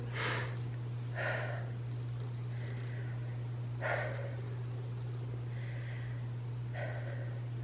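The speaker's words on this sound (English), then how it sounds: "Sorry for the heavy breathing." Heavy, slow breaths close to the microphone, several audible inhales and exhales at irregular intervals over a constant low electrical hum.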